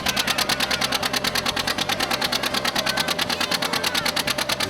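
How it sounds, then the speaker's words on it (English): An antique John Deere tractor at a county fair pull, its engine laboring hard under heavy load with a steady, rapid rhythmic chugging that stays loud and close throughout. "The big John Deere is digging in. Sounds like plenty of power."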